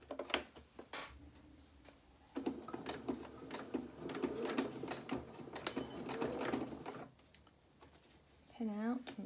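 A sewing machine stitches a quarter-inch seam on a shirt in short bursts of rapid mechanical whirring, with pauses between runs and a person talking over it; a brief rising whine comes near the end.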